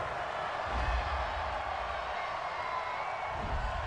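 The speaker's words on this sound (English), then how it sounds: "this crowd does not like that call" A football stadium crowd at a Chicago Bears versus Green Bay Packers game reacts to a penalty flag with a faint, distant, sustained murmur and low roar of displeasure.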